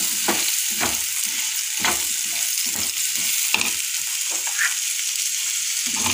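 Cauliflower florets and peas sautéed in a pan for a Marathi potato, pea and cauliflower bhaji, with a steady sizzle of frying and repeated stirring scrapes at irregular intervals, close and fairly loud, no talking.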